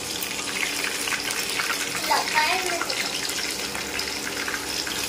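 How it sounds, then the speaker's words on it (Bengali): Onion and tomato fry in hot oil for homemade chicken curry, making a steady, dense hiss and sizzle that continues throughout with faint scraping under it. "তেল গরম হয়ে গেছে, এরপর আমি দিয়ে দিচ্ছি পেঁয়াজ আর টমেটো।"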